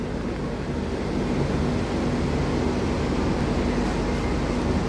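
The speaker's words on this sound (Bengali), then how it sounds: "এখন বোধহয় জোয়ার হচ্ছে, বুঝলেন," Sea waves at high tide on Puri beach at night, a loud, continuous broadband roar of surf with wind-like noise and no distinct breaks.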